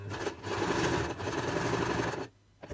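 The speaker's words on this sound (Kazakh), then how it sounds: "Бұрышына сары түсімізді тігіп алдық." A sewing machine stitches yellow fabric onto the corner of a patchwork quilt block, making a steady, fast mechanical whir that runs for about two seconds before it stops. The sound is close, with no voices.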